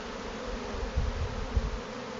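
Honey bees hum during a hive inspection, a low steady buzz close by with a couple of louder swells as bees pass near.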